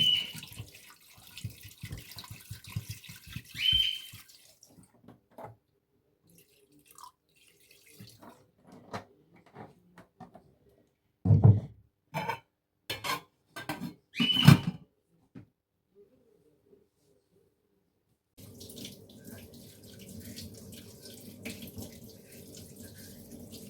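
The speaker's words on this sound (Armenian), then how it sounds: "հիմա մսի վրա լվացած ավելացնեմ ջուր և դնեմ գազօջախին եփվելու" Water runs from a kitchen tap into a sink in several bursts, splashing, with quiet gaps and small clatters between, then a longer steady flow.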